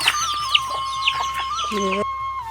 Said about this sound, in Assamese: এইফালে দেখিছে হাঁহ মুৰ্গী চবেই মিলি খাই আছে